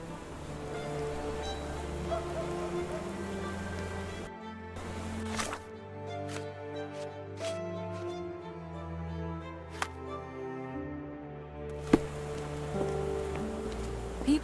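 Steady rain falling in the Sherlock Holmes The Awakened video game, a constant close patter on surfaces with occasional sharper drips and knocks, over a low background tone and no talk.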